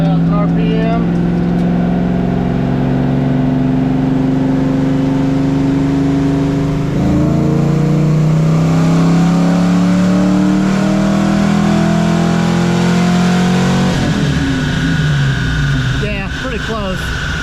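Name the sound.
Fox body Mustang engine revving to 3000 RPM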